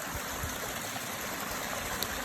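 Mountain stream water flows at the Binsar Mahadev temple site in Uttarakhand. It makes a steady, close, continuous rushing with no break and no voices.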